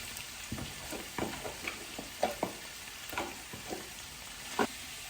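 Carrots and chayote are sautéed in a pan, with steady soft sizzling and repeated scraping strokes of a spatula stirring the vegetables, close up and without talking.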